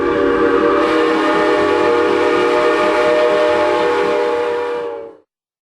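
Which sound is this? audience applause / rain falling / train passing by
train passing by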